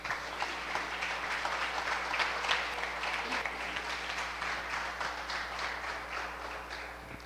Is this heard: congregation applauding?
yes